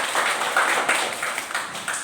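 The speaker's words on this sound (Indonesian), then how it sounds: "kita berikan aplaus dulu buat jawaban teman-teman" Students in a classroom give brief applause for a group's answer, a short burst of many hands clapping that fades slightly toward the end, with no talk.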